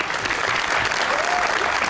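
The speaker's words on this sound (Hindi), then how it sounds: "तालियां बजाएं।" Steady audience applause rings through an Eid special television talk show studio, a brief dense burst of clapping that continues evenly throughout.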